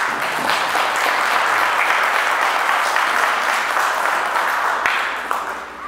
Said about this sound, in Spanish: Felicidades, un aplauso.